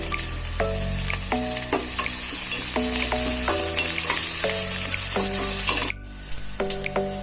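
Onions and curry leaves frying in hot oil, cooked at home for mutton liver fry, sizzling loudly and steadily, with repeated stirring scrapes and taps throughout and a brief drop in the sizzle near the end.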